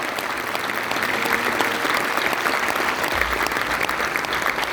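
A large college audience at a religious festival talk bursts into sustained, loud applause, dense and continuous, with faint crowd murmur beneath.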